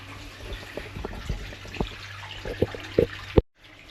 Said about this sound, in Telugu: ఇక్కడ వాటర్ ఎక్కడో ఫ్లో అవుతుంది, వాటర్ సౌండ్ కూడా వస్తుంది